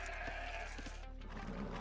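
A single short sheep bleat rises from a strategy video game, faint against a steady low background hum.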